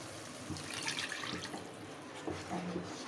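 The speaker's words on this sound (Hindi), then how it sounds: "अब हम इसमें डाल देते हैं थोड़ी ग्रेवी" Gravy pours into a kofta mixture, a soft continuous liquid splash and trickle close by with a few faint clinks and no talking.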